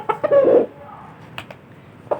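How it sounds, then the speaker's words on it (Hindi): A rooster clucks loudly and close by in a short burst, followed by a couple of quieter, softer clucks. "गाइस ये हमारा मुर्गा है"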